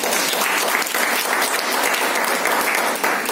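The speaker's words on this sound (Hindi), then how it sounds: "वेरी गुड, जिसने बोला एक जोरदार ताली" Enthusiastic audience applause at a motivational lecture, a dense, loud burst of many hands clapping that is sustained throughout with no talking.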